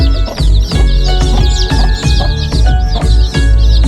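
Loud, close clucking from a desi hen with repeated soft chirps and peeps of her mixed Sonali and desi chicks all around, continuous and busy without pause.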